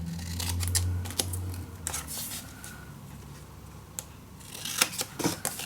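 Scissors snipping the corners off paper during a craft project, a series of sharp close clicks and crisp cuts, irregular and spaced, with light handling rustle between them.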